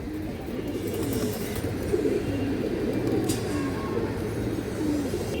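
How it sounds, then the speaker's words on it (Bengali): A khaki female pigeon coos in low, rolling phrases amid a dense chorus of other pigeons, steady and close with a constant background murmur. "খুবই সুন্দর একটা খাকি মাদি কবুতর"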